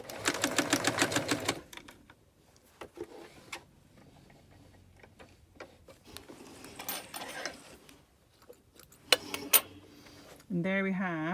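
A sewing machine runs an edge stitch along a skirt waistband in a short loud burst at the start, then again briefly near the end, with quiet handling and clicks between the runs.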